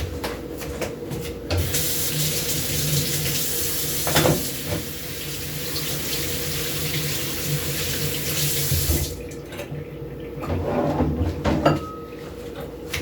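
Tap water runs steadily into a kitchen sink as food is rinsed beneath the stream, a continuous close splashing wash with brief knocks of handling and a pause in the flow near the end, no talking.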